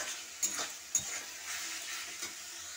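Fried pointed gourd (potol) and potato being stirred with spices in a sizzling pan for posto potol, a steady close frying hiss broken by a few sharp spatula scrapes and knocks, with no talking.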